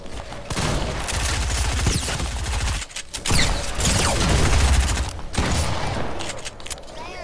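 Submachine gun fire in a multiplayer shooter video game: dense, continuous rattling bursts of rapid shots fill the whole stretch, loud and close, with busy game action mixed in.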